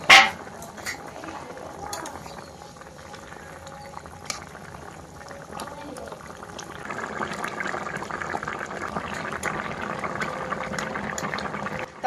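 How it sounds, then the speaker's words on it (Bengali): Curry bubbling at a rolling boil in a pot, a steady soft gurgling and popping that grows fuller and denser in the second half, with faint clinks of utensils near the start. "তরকারি কিন্তু বন্ধুরা ফুটে উঠেছে"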